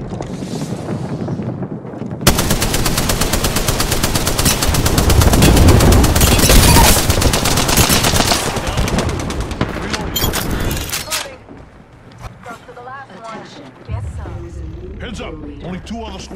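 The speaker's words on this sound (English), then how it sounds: "Firing. I'm getting shot." Dense automatic gunfire and bursts in the video game Apex Legends, loud and continuous for most of the stretch with explosive rattling, easing toward the end, with a voice talking over parts of it.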